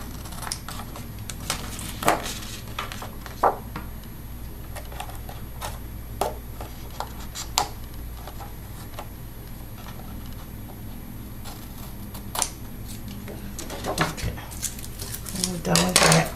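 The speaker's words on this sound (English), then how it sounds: "we're gonna cut the washi tape off" Small scissors snip washi tape off a handmade floral card in a series of light, sharp clicks and cuts, close and fairly quiet over faint room noise, with a brief stretch of soft handling at the end.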